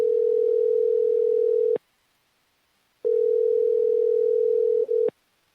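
Telephone dial tone on a phone line, a loud steady hum that plays, cuts out for over a second, then returns briefly before stopping, with no voices.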